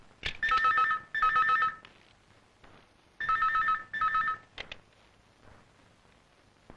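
A telephone rings in another room in two pairs of bright electronic trills separated by a pause, clear and fairly loud with no one speaking.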